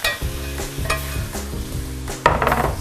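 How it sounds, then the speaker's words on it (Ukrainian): Onion and meat sizzling as they are stirred in a hot pan, a loud close fry with repeated scraping stirs roughly every half second and a louder burst of sizzle near the end. "швиденько обсмажити цибулю разом із м'ясом при е, постійному розмішуванні"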